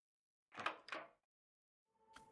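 A door opening in a visual novel mystery game: two close, distinct creaking or clattering bursts, then a short pause and a fainter final click with a lingering tone, with no talk over it.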